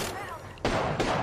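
Two sharp shotgun blasts ring out in a first-person shooter match, a second or so apart, loud and close over background game noise.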